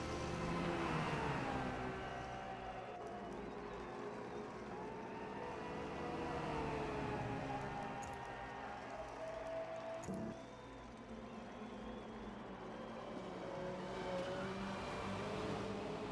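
Modern GT1 racing cars, a McLaren and a Ferrari, lapping Silverstone in a racing video game, with engines droning and revving steadily through the whole stretch at a moderate distance, a commentator talking over them.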